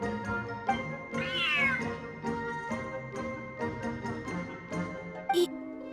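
A cat meows in a video game, one drawn-out, rising-and-falling mew near the start set over a steady bed of game music with chiming tones, plus a brief tinkle toward the end.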